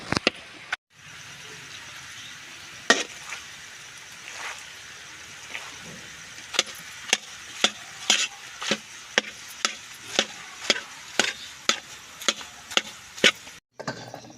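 Halwa made from maida cooks in a pan, a spoon scraping and stirring in a steady rhythm of sharp clicks and scrapes over a faint background sizzle, close and fairly quiet, with no speech.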